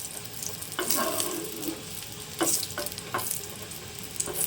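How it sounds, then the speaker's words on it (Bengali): Dry red chillies frying in a pan, a soft continuous sizzle with occasional scraping stirs, quiet and close with no voices. "দিয়ে দেবো প্যানের মধ্যে এবং সেটাকে ভালো করে ভেজে নেবো"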